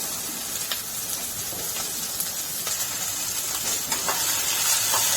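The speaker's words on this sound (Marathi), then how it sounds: "तेल तापलेलं आहे, भेंडी टाकून घेऊया। भेंडी फ्राय करून घेऊया आधी 2-3 मिनिटं।" Okra frying in hot oil in a kadai, producing a steady bright crackling hiss with scattered pops, close and continuous with no voices.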